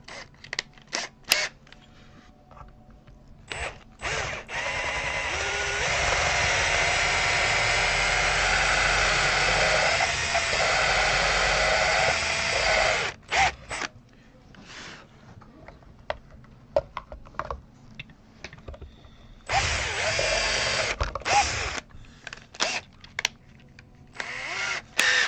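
A power drill with a new bit bores through a guitar pickguard, whirring steadily for several seconds, then again in a shorter burst, between scattered clicks and handling noises.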